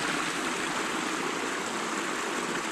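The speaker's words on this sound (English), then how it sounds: "And that's water. That's a natural spring." Natural spring water pours from a mountainside in Kanawha State Forest as a steady, close, full-bodied rushing flow, constant throughout without any voices.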